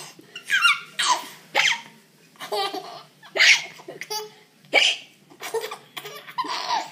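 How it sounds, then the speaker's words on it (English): A young child giggles in short bursts, broken by sharp hiccups, several rhythmic fits of laughter spaced about a second apart, close and clear with no words spoken. "Have we both got the hiccups?"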